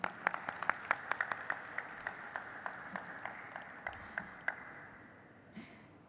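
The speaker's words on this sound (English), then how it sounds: "Give me a bigger round of applause for him," Applause at a stock exchange listing ceremony, sparse and fairly quiet, a handful of distinct claps in an irregular run that tapers off over a few seconds.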